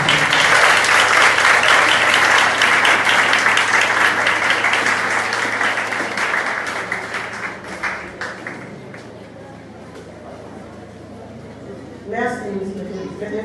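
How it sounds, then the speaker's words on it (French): An audience in a church claps for its director, Miss Sénégal Marie-Parole Désir, at a nurses' day celebration, loud and dense at first, then slowly fading over several seconds before a voice starts speaking. "Sous vos applaudissements, s'il vous plaît."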